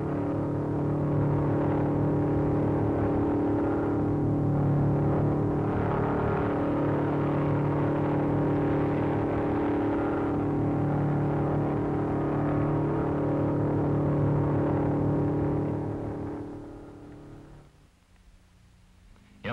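A 1956 MG race car runs at speed near 150 mph on the Bonneville Salt Flats, a loud sustained engine drone and whir lasting about sixteen seconds before fading away quickly.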